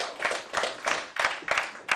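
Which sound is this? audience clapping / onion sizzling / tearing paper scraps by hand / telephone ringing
audience clapping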